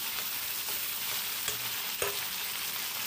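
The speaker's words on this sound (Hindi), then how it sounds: "और ये है हरी मिर्च और टमाटर कटा हुआ, इसको भी अच्छी तरह हम भून लेंगे तेल में।" Chopped green chilies and tomato frying in oil, a strong, unbroken sizzle up close with a couple of brief stirring scrapes against the pan and no voices.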